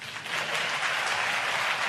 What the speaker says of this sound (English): Crowd lapping up every shot he plays